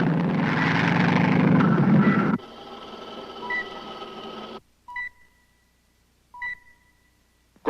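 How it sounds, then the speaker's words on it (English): A light civilian plane's propeller engine drones loudly for about two seconds, then gives way to a thin electronic hum and several sharp, evenly spaced beeping tones. "There's a light civilian plane coming in at 190 degrees. Appears to be in trouble."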